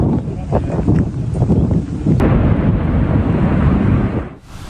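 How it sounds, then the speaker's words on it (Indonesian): A deep, rumbling roar of an explosion destroying a building in Lebanon swells and rolls on for several seconds, thick low-end noise like debris crashing down, then cuts off abruptly. "saat ledakan hancurkan sebuah gedung"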